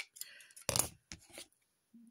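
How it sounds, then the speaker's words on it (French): A pair of crafting scissors is cleaned at a card-making table: a few quick, crisp snipping and scraping sounds up close, then near silence with a faint brief tone at the end. "Je nettoie ma paire de ciseaux."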